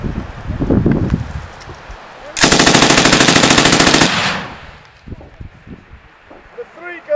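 A military machine gun rips off one sustained, loud burst of rapid fire on a firing range, with shouted commands from the crew before and after.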